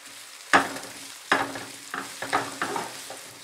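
Mixed vegetables with finely chopped carrot, cooked for spring rolls, are tossed in a hot pan, several sharp stir-fry bursts of sizzling with utensil scrapes over a low steady hiss.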